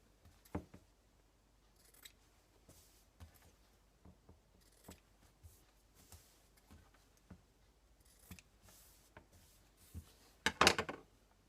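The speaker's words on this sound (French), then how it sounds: "Ensuite, vous allez venir découper vos pointes le plus près possible" Scissors snip through fabric points close to the stitching, a series of small, sharp, close cuts spaced irregularly, ending in a louder cluster of snips.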